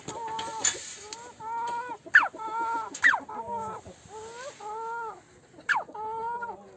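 A sick hen makes a rasping, snore-like call at close range, repeating it in short wavering bursts broken by sharp higher squawks, with a few brief pauses between.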